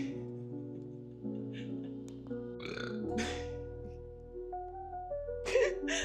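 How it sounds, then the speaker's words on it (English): A person burps once or twice, close and fairly soft, over a low steady hum of background music. "I had to burp when as soon as I press record."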